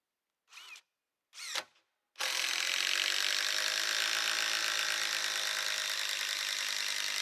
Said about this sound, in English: So now I'm going to drive in 10-inch U2 fastener screws through my beam into my posts.